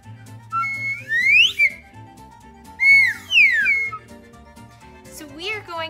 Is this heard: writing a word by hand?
no